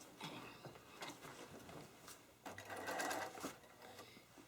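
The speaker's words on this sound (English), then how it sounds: "So now we're going to stitch the border on at using a 1/4 inch seam allowance." A sewing machine stitches a quilt border with a quarter-inch seam, a steady close mechanical whirring with rapid needle clatter that runs on continuously and grows slightly louder partway through.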